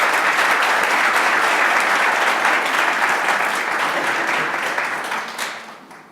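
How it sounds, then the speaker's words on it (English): An audience at a school board meeting applauds a high school brass quintet, a dense, loud wash of many hands clapping steadily for several seconds before fading out near the end. "Give them another round of applause"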